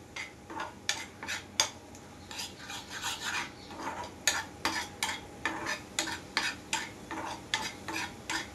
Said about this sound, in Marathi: मसाला छान असा फ्राय झालाय